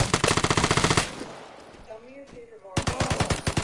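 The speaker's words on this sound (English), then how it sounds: "I'm here and I'm getting shot at." Close, loud automatic gunfire in the shooter game Vigor, a rapid rattling burst that stops, a brief quieter gap with faint tonal sounds, then another rapid burst.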